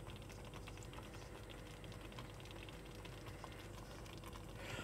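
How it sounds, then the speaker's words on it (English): Food bubbling steadily in a small saucepan on the heat, a close, continuous simmer with quick popping clicks throughout and no voices. "it's bubbling. Sounds like a bubbling cauldron"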